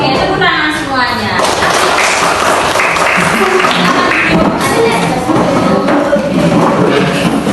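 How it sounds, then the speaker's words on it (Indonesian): Students in a classroom clap their hands together in a dense, steady round of applause, loud and close throughout, with voices chattering and calling out over it. "tepuk tangan semuanya"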